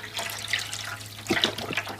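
Liquid is poured into a crock pot of rubbed pork for spicy tacos, a soft, close splashing trickle with a few brief gurgles over a steady low hum.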